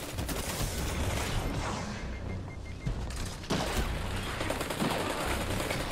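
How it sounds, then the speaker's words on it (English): Dense, continuous gunfire from a Destiny 2 multiplayer match fills the mix, with rapid overlapping shots and booms that stay loud throughout and a sharper burst near the middle. "I just shot 5 shots and missed all of them."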